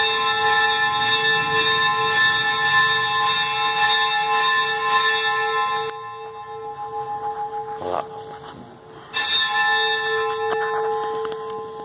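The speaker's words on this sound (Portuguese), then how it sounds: "Lá estava o sacristão tocando o sino." A church bell rung by the sacristan at the Church of São Sebastião in Lagoa de Dentro, Paraíba, rings loudly and up close in repeated ringing strokes with long sustained tones, briefly pausing before resuming.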